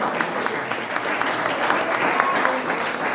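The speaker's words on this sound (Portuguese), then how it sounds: "E as palmas do nosso Deus." A church congregation clapping during a healing and deliverance worship service, a fairly soft, continuous patter of many hands with occasional sharper claps standing out, heard in a reverberant hall.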